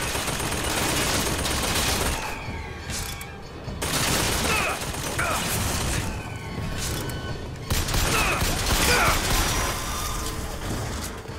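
Gunfire from a gun in Bioshock Infinite rattles in loud, sustained bursts separated by brief pauses, with mechanical clatter and game effects mixed in.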